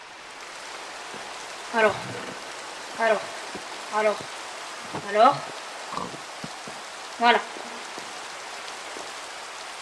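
Rain in the video game Minecraft falls as a steady, even hiss throughout, while someone speaks in short bursts over it.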